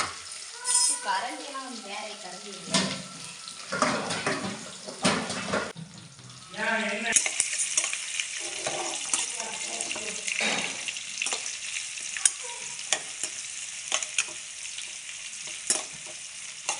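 Chopped onions sautéing in hot oil in a kadai with mustard seeds and curry leaves for pepper chicken: a steady close sizzle with spoon stirring and occasional utensil clinks, strongest after the first few seconds.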